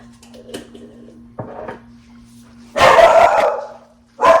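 A pet dog barks indoors in a home kitchen: a couple of short, sharp single barks, then a longer burst of loud, close barking and one more bark, with a low electrical hum underneath.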